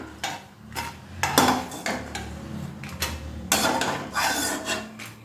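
Roasted spice ingredients for idli sambar podi are scraped out of a pan onto a plate, with repeated rasping scrapes and metallic clinks in uneven bursts, close by and fairly loud.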